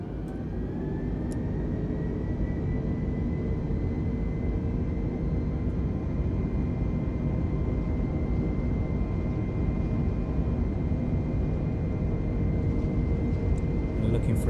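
An Airbus A320 taking off in a flight simulator, a steady loud jet engine roar with a thin high whine held throughout, constant and close with no break.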